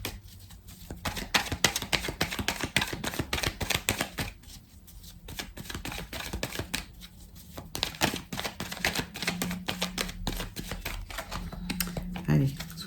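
A deck of oracle cards is cut and shuffled by hand, giving a run of quick crisp riffling and tapping clicks close by, with a voice speaking over much of it.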